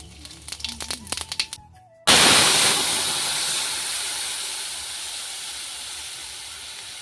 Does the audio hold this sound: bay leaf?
yes